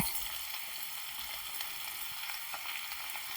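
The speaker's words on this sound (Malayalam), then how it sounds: "ഉരുളക്കിഴങ്ങ് ആദ്യം ഇട്ട് കൊടുക്കാം ഉരുളക്കിഴങ്ങ് നന്നായി ഒന്ന് വഴ വഴറ്റണം" Potatoes sauté in a pan for a Navratri potato and capsicum dry masala, giving a steady, close, broadband sizzle with faint stirring scrapes throughout and no talking.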